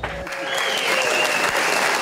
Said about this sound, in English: With a round of applause and a flick of the dirt